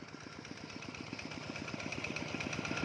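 A walking tractor engine with a broken exhaust pipe chugs out a rapid, even knocking beat, fairly close and steady, on a rice farm, growing slightly louder throughout.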